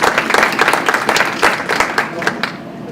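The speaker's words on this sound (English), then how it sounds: "Give him a round of applause." Audience at a casino spirit gathering event applauding, a dense, steady wash of many hands clapping at close range with scattered cheers, filling the whole stretch.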